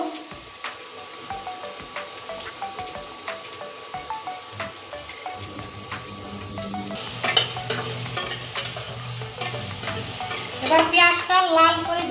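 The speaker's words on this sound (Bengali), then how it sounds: "পেঁয়াজটা তাড়াতাড়ি ভাজা হওয়ার জন্য দিয়ে দিচ্ছি লবণ পরিমাণ মতো" Onions frying with salt in a pan for a Bengali egg and potato curry give a steady close sizzle with stirring scrapes, the frying growing louder and more crackly toward the end.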